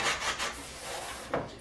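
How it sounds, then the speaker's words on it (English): A Japanese pull saw works through a piece of hardwood in a few raspy, rhythmic strokes, close up and fairly loud, with no voices. "I'm just using a Japanese pool saw for this"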